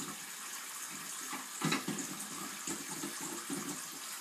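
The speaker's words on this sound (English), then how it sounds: "I'm washing the big plate" Tap water runs steadily into a sink while a large plate is washed, with soft splashing and a few brief clatters, close and moderately quiet.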